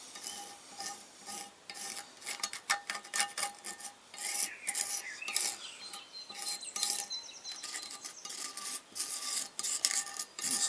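Tool scraping old silicone sealant off the cylinder head mating surface of a Kawasaki EX 500 / ER-5 engine: repeated short rasping strokes in an uneven rhythm, close and fairly clear, with no talk.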